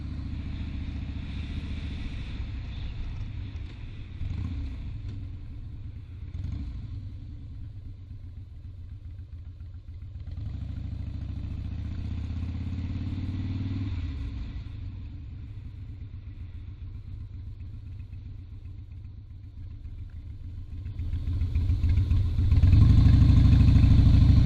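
Motorbike ridden into an airport car park at night, a steady close engine rumble and idle that swells as it accelerates and maneuvers, then grows louder near the end as it parks.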